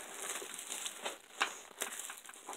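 A thin plastic sheet over a diamond painting crinkles and crackles in soft, irregular bursts, close but fairly quiet, with no talk.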